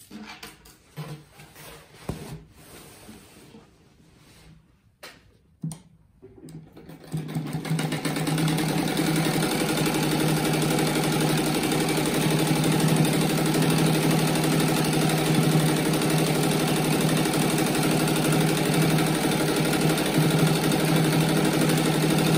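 Sewing machine stitching a seam on a fabric rug, starting after a few seconds of handling noise and then running continuously with a steady, loud mechanical whir close by.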